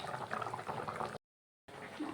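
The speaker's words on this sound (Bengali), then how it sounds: "তো এই যে ঝোল ফুটছে বন্ধুরা" Mutton curry broth boils in a pot, bubbling and gurgling softly and continuously up close, with a brief dead gap of silence midway before the simmering resumes.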